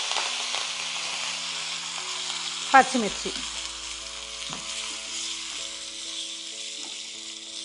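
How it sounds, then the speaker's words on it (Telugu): Tempering of mustard seeds, dried red chillies, asafoetida and curry leaves crackles and sizzles in hot oil for tomato dal, a steady frying hiss with a sharp louder burst of spattering midway, then settling back. "ఆవాలు చిటపట్లాడాకే మనం ఏదైనా వేసుకోవాలి, లేకపోతే వాసన రాదు."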